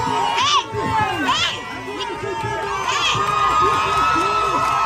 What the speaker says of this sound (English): Listen to them cheer too.